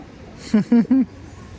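Andhra Kalshira pigeons in a loft give three short, low coos in quick succession, close and fairly clear over faint background noise.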